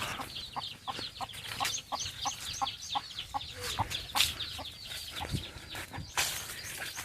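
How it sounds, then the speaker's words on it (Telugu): Country-breed chicks and hens on a farm keep up a steady run of high, rapid peeps and low clucks, close and continuous, with no talk. "ఇవైతే మనకు జాతి కోడి పిల్లలే"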